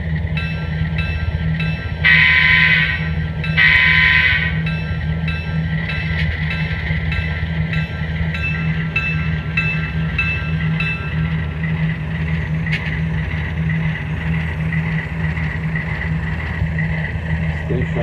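A model train sound decoder, Tsunami 2 or Kato Soundbox, plays a passenger train sound at a station: a steady rumbling engine drone throughout, with two loud horn blasts early on and a faint clank later.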